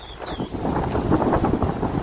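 Strong gusts of wind buffet the microphone in low, rumbling surges that rise and fall without pause.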